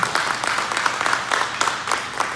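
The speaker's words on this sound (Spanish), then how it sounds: "dale un fuerte aplauso y alábalo." A church congregation breaks into a burst of applause during a morning service, a dense, steady patter of many hands clapping together that holds at an even level for a couple of seconds.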